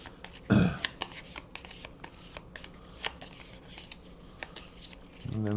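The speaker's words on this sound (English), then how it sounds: "the first thing each player does is they got to shuffle up their decks, which I'll be doing here" A deck of Legendary game cards being shuffled by hand, with one loud riffle burst near the start, then a run of soft, rapid card flicks and taps close by.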